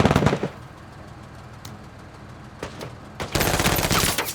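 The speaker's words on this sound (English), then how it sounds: "This is chain gun." Chain gun fire in a turn-based tactical video game, with a short opening burst, a few isolated shots in the middle, and a loud, dense sustained volley at the end.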